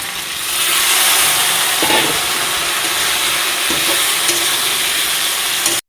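Potato and jackfruit frying in oil in a pan, a loud steady sizzle and hiss that runs unbroken with faint stirring scrapes, then cuts off abruptly at the end.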